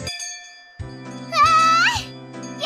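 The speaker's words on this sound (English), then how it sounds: "That was the bell." A bright bell chime from the visual novel Higurashi When They Cry rings out in a few clear, ringing tones over a sustained musical backdrop, with a rising tonal swell in the middle.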